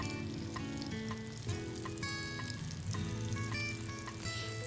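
Mushrooms sizzle steadily in a hot nonstick pan with melted fat, a constant crackling fry with a few light clinks over a music bed, no talking.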